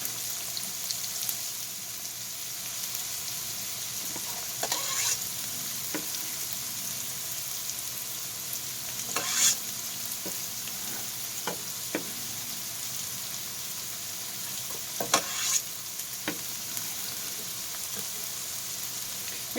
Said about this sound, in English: I'm going to put that onion in I just chopped up. I'm going to get it cooking, and I'm also going to add the jalapenos.